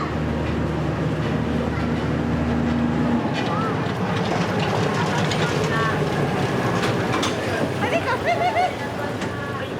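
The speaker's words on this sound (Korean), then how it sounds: "소설 보짱에 이름을 붙인 열차도 있다." The small Botchan steam-style train runs in Shikoku, Japan, with a steady rumble and low engine hum that is strongest at first. Continuous crowd chatter and voices carry on throughout.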